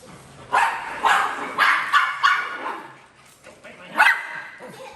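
Puppies bark in a string of sharp yips and woofs close by, several short bursts across the stretch with a pause before a last loud bark, with some faint human voice in the background.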